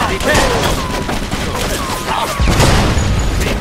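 Grease bomb blowing up during a Mafia 2 gunfight, a loud booming blast amid dense gunfire and crackling, with a heavy low-end burst near the end and voices shouting over the din.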